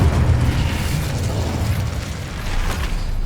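Incendio fire spell blast in Hogwarts Legacy, heard as a loud, dense roaring burst with heavy low rumble that persists through the whole stretch, close and with no talk.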